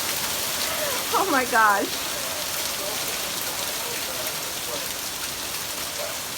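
Heavy rain pours steadily in Southern California, a dense continuous wash of drops on surfaces throughout, with a person briefly exclaiming over it early on.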